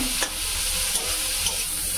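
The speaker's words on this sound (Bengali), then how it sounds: "এখানে আমি করলা ভাজা করছি" Bitter gourd frying in a pan, a constant close hiss of sizzling oil with three light utensil taps against the pan while it is stirred.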